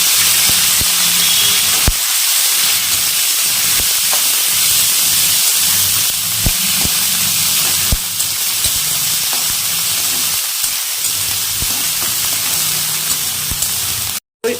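Mustard greens hit a hot pan: a loud, steady sizzle with a hissy, steamy edge runs unbroken for nearly the whole stretch, then cuts off abruptly at the very end.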